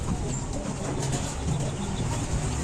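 Low pigeon coos sound faintly against a busy, noisy background of rustling and ambient clatter.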